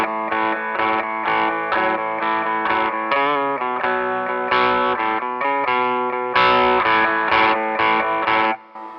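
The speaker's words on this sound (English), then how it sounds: "The first guitar player doing just the guitar part by himself would sound like this." A single distorted electric guitar plays a song's guitar part alone, with choppy rhythmic chords and bright riffs at a steady tempo, loud and near, ending with a sudden stop.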